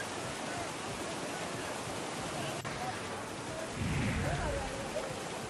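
Heavy unseasonal rain pouring down in a dense, steady roar, loud and continuous, with a low rumble swelling near the end.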